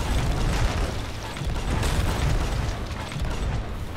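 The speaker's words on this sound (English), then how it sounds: "Just keep firing." Ship cannons fire repeatedly in a naval battle in the pirate video game Sea of Thieves, a dense run of booming blasts and rumble filling the whole stretch with no pauses.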